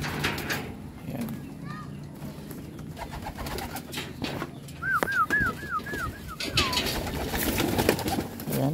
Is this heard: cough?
no